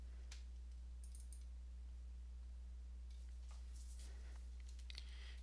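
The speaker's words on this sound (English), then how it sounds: "And type in the URL git download." Computer keyboard typing heard faintly over a strong low electrical hum, a few short clusters of light key clicks separated by pauses.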